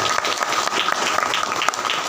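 Dense, loud applause from a congregation at a church preaching service, continuous rapid clapping that holds steady for about two seconds with no clear talk over it.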